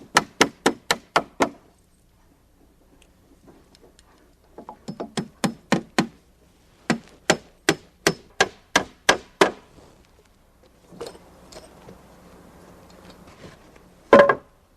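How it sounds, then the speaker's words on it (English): Nails hammered through a terrace stair rim into a wooden carriage: sharp, close hammer blows in quick bursts of several strikes, separated by short pauses, with a final heavy hit. "At the top, I nail through the rim into the carriage and add a clip."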